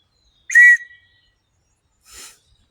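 An antique nickel-plated brass whistle gives one sharp, loud, shrill blast, then a fainter, breathy second puff about a second and a half later, with silence between.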